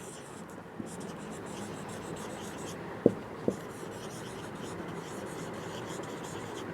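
A pen scratches across paper during a math lesson, a soft, continuous rustle with a few small taps, faint and close, with only quiet whispery breathing around it.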